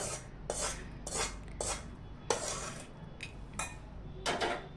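A spoon stirs fresh turmeric pickle in a pot, giving about eight short scraping, clinking strokes in an uneven rhythm, close and fairly quiet, with no voices.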